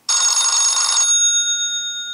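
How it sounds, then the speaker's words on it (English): Classic Wall Phone stock ringtone on a ZTE Open Firefox OS phone: a loud, bright electronic bell trill for about a second, then sustained ringing tones fading slowly, with no talk. "Then we have Classic Wall Phone."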